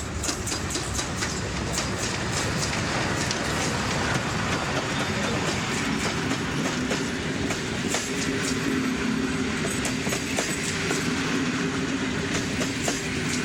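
A locomotive hauling green double-decker carriages on a Polish railway rolls past, a steady loud rumble with rhythmic clickety-clack of wheels over rail joints.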